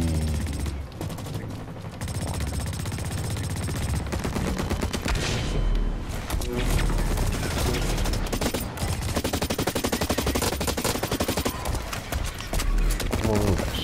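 Sustained automatic gunfire in the video game Blacklight: Retribution, dense rapid bursts from several weapons firing nearly nonstop, loud and close, with a voice speaking over the shooting.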